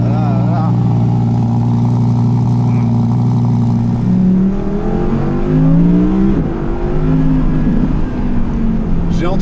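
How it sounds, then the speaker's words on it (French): A 2019 Audi R8 Performance with a V10 engine idles loud and close, then revs in rising and falling sweeps, while someone talks over the engine. "le son fabuleux de ce V10"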